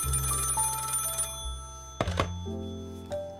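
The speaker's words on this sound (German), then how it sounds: "Das Telefon klingelt." A telephone bell rings in a children's detective story, a loud electronic ring with sustained tones, then a couple of sharp thunks as the receiver is picked up.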